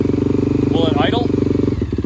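An Arctic Cat DVX400 ATV engine idles steadily after a fresh carburetor is fitted, a close, loud, even thrum with a brief change near the end, while a person speaks over it.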